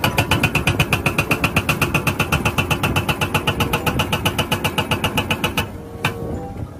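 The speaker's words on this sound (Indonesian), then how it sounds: "Ada ekskavator pemecah batu teman-teman." A toy rock-breaker excavator hammers in a fast, even series of sharp mechanical strikes for nearly six seconds, then stops, leaving a brief knock and a faint low hum.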